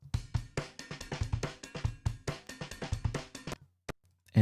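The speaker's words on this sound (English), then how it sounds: "OTT, multi-band compression, make sure you change the split frequencies to where it sounds good." Drum loop heavily squashed by OTT-style multi-band compression in a beat: dense, punchy hits in a steady rhythm with bright, crunchy tops, stopping abruptly near the end before one last hit and a loud low thump.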